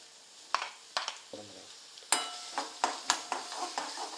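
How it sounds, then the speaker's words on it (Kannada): Onions tipped into a pan of frying green chillies for a besan curry: a low sizzle with sharp spoon clinks and scraping taps against the pan, stirred at a steady rhythm, no talk. "ಈಗ ಉಳ್ಳಾಗಡ್ಡಿ ತೊಗೊಂಡಿದ್ನಲ್ರಿ ಉಳ್ಳಾಗಡ್ಡಿ ಹಾಕೋತೀನಿ ನೋಡ್ರಿ"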